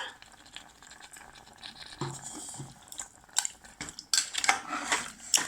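Metal utensils scrape and clink against a pot as South Indian mutton kurma curry is stirred, with a few louder clatters toward the end and a faint background hiss.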